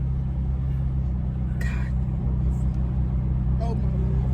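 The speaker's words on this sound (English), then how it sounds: "don't ever hold the brake and the gas pedal" A car engine idles with a steady low rumble while the driver holds both the brake and the gas pedal. It sits close and constant under the cabin, with a couple of brief higher noises and no clear rising rev.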